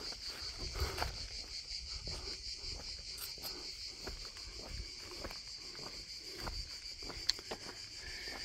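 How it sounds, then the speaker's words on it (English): Cicadas drone in a steady high-pitched buzz throughout, a continuous shrill chorus outdoors near Citerna, Italy, with faint rustling and occasional soft footsteps nearby. "Cicadas are singing."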